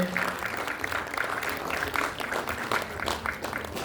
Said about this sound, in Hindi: हम लोग देख भले ना पा रहे हो लेकिन तालियां तो बजा ही सकते हैं